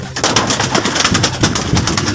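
Loud, close pigeon cooing in rapid overlapping pulses, several birds throbbing together continuously without pause.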